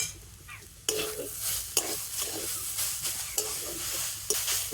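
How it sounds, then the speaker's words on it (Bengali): Grated potato and carrot with salt get stirred in a hot pan, a continuous close sizzle broken by scraping strokes of a spoon and occasional light taps against the metal. "তো লবণ দিয়ে সব কিছু ভালো করে মিশিয়ে নিয়ে"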